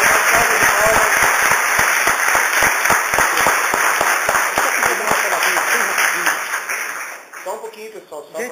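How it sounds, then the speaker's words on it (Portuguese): An audience applauds after a university history lecture. Loud, dense clapping with sharp individual claps fills the room, then quickly thins out and fades as a voice begins talking. "Sugiro que nós paguemos a professora, uma salva de palmas."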